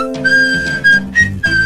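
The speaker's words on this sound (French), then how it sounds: "Tu n'aimes pas mon sifflement?" Someone whistles a short, bright tune of a few sustained notes with brief breaks between them, loud and close, with no talking.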